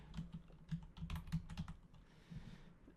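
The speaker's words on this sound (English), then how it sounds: "Oh, it's because I'm typing down there." Rapid clatter of fingers typing on a computer keyboard, a quick irregular run of close, crisp key taps that thins out near the end, with no voices.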